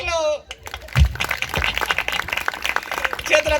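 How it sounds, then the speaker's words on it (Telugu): A church congregation breaks into brief applause after a preacher's line, scattered clapping rising under his voice and the room's murmur. "చప్పట్లు"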